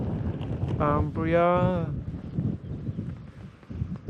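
Steady wind blows across an open hiking trail on the Isle of Skye near an abandoned old village, a continuous low rush and microphone buffeting with brief speech partway through.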